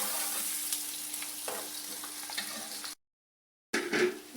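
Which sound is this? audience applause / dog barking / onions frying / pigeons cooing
onions frying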